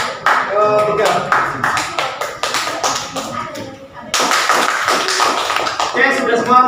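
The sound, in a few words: audience clapping for group 3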